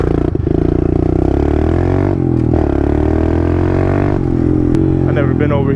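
A pit bike rumbles steadily along a bumpy hillside trail, its engine loud and close throughout with clattering and scraping from the rough ground and brief revving near the end.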